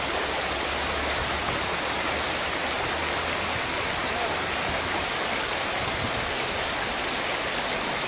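A quiet river flows with a steady, dense wash of water noise that stays even from start to finish, with no voices standing out.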